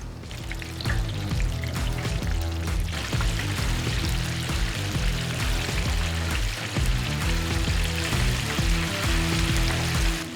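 Fish for tacos is laid into hot oil and fries with a dense, steady, loud sizzle that continues unbroken throughout, heard close up with no talk.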